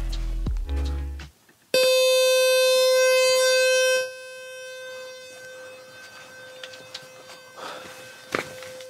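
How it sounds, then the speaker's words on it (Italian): A breadboard oscillator circuit built with a 10 pF capacitor gives a loud, steady buzzing tone rich in harmonics that holds for about two seconds and then stops abruptly, leaving faint clicks and handling noise. "Un'oscillazione, un'onda effettivamente piuttosto fastidiosa, ma assolutamente ascoltabile e utilizzabile in realtà."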